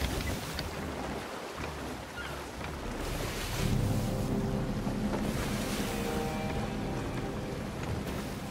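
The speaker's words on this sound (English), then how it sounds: "Whoa, look at the water going mental." Rough, churning sea water and crashing waves around a sailing ship in Sea of Thieves, a loud continuous rushing wash with wind noise that swells and thickens partway through.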